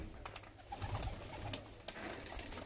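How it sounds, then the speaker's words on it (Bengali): Large long-bodied Kaldam pigeons coo softly from a rooftop loft, with a low throaty burst near the middle among faint background noise. "পায়রা দুটো দেখো তোমরা"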